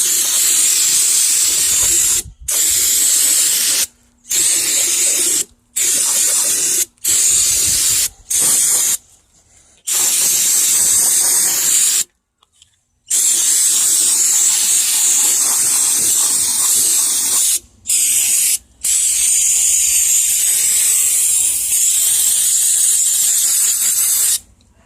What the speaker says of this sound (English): I went ahead and hosed it off after I got done brake cleaning it